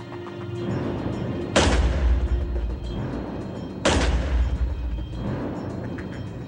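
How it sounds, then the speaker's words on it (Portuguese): Two loud gunshots from a long-barrel gun a couple of seconds apart, each a sharp crack followed by a rumbling boom that fades slowly. "nosso especialista usa uma arma de cano longo"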